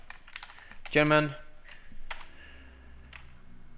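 Quick bursts of clicking on a computer keyboard are heard as a few words are entered, with a voice speaking over part of the typing.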